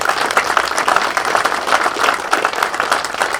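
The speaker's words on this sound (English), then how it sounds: "So let's give him a really great round of applause." A crowd at a fire headquarters dedication ceremony claps enthusiastically, a close, dense burst of applause that stays steady throughout.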